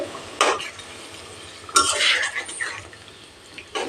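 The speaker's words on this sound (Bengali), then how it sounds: "মিক্স করে দিলাম" Egg curry with boiled potatoes in a little hot water being mixed in a pan: a few distinct scraping clanks of a spoon against the pan, close and moderately loud, over a soft background.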